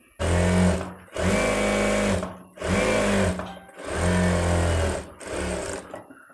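A sewing machine stitches and pleats the lining of a baby's silk skirt, running in five loud, close bursts of fast whirring separated by short pauses.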